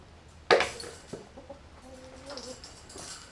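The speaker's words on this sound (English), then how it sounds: "Let's feed our chickens, guys." Backyard chickens cluck around feeding time, with a sharp clatter of feed or a container near the start followed by a few short, nearby clucks and calls.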